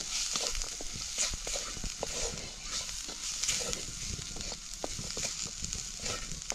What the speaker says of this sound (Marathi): आता हे पण चांगलं परतून घेऊ